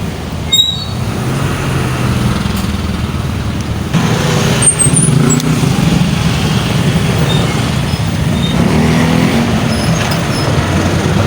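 Steady road traffic rumbles around a cyclist, with passing cars and vehicles droning continuously and loudly at close range, plus occasional faint high squeaks.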